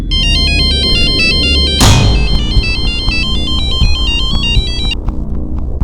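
A loud electronic phone ringtone beeps in a repeating melodic pattern over a rumbling background, with a sharp whoosh partway through.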